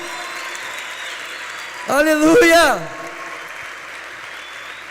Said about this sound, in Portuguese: Aplauda Jesus mais forte aí